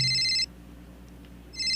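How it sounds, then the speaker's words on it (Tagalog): A cellphone in a drama scene rings with bright, electronic tonal bursts, loud and close, in two clear bursts separated by a short near-silent pause, with no talk over it. "agriring ti cellphone mo"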